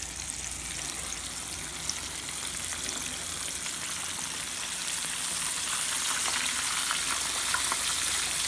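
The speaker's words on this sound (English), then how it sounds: "Putting it down in the grease." Floured pork chops fry in hot grease on the stove, giving a steady, close, dense sizzle and crackle that grows slightly louder toward the end, with no talk.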